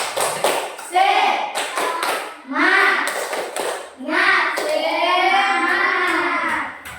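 A classroom of children clap together in sharp rhythmic bursts while chanting loudly in unison, call-and-response style, with an adult voice leading between the claps.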